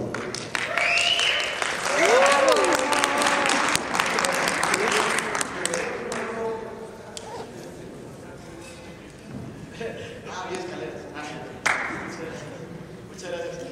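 A studio audience gives a loud burst of applause welcoming a singer onstage, with a voice speaking over the opening seconds before the clapping thins into scattered claps.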